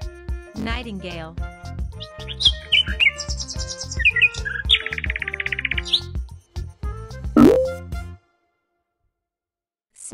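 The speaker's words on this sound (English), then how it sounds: "Nightingale." Nightingale singing in a children's animal sound learning piece, bright chirps and trills in quick phrases over a rhythmic music backing, ending in silence.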